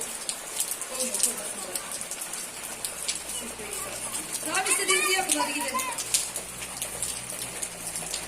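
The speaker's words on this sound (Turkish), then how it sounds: "Yağmur duracak gibi değil gidiyoruz" Steady rain patters on the ground in an outdoor park beside a mosque, a continuous hiss with scattered drop sounds, while voices murmur faintly in the background.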